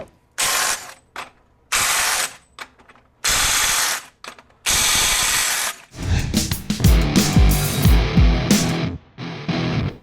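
RYOBI 18V One+ HP compact impact wrench, model PSBIW25, firing in loud short bursts of hammering rattle, then a longer run of rapid impacts near the end, close and alone.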